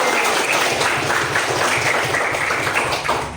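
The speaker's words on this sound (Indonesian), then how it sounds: "Iya, tepuk tangan dulu." Students in an Islamic jurisprudence class clap together, a loud, busy patter of hands filling the room for several seconds with light taps mixed in and no clear talking.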